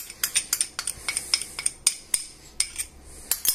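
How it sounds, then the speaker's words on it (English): Potatoes and vegetables tossed with oil in a dish, giving a close, brisk run of light clinks and scrapes from a utensil against the dish in an irregular rhythm. "we'll move this all about. So that the potatoes and veg will all mix in"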